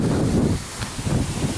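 Wind gusting outdoors in Jamaica, a steady low rumble buffeting the microphone with a brief lull near the middle before the roar picks up again.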